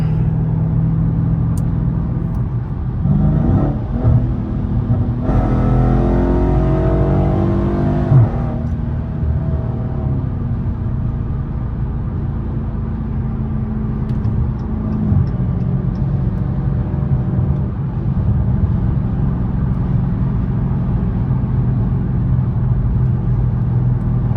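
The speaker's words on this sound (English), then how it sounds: "I know y'all like hearing the engine" Dodge Challenger Scat Pack 392 V8 rumbles steadily while driving on a highway, heard from inside the car, with a brief rising pull early on before settling into a low, constant drone.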